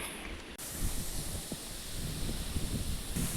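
Wind sweeping over a green grassy meadow on a mountain hike near Aralvaimozhi, a steady broadband rush with gusty rustling that swells after a brief quieter start and stays continuous throughout.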